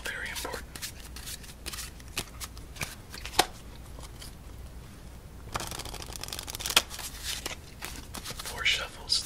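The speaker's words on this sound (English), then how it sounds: "Four shuffles, then we're off to go." Cards from a Series 1900 deck riffled and shuffled several times up close, crisp bursts separated by short pauses, with soft whispery sounds in between.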